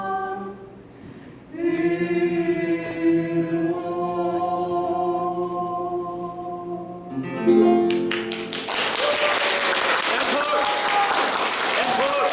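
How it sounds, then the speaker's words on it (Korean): An audience breaks into loud, dense applause at a book concert, the clapping swelling in after sustained singing or music and continuing to the end. "여러분께 다시 한번 큰 박수 부탁드리겠습니다"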